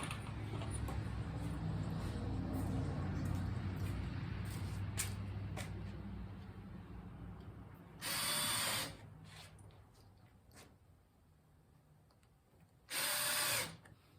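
A power drill whirs for several seconds as it drives a screw into a cemetery fence, then two short, sharp high-pitched bursts follow, separated by quieter pauses.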